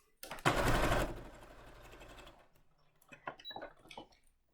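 Sewing machine stitching along the edge of a cloth napkin, a loud steady burst of rapid stitching for about two seconds that slows and trails off, followed by a few quieter clicks and taps.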